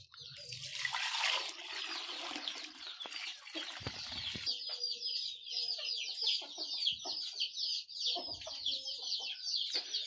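Chickens cluck and chatter nearby, a busy run of short calls, after a brief splash of water poured for them to drink at the start.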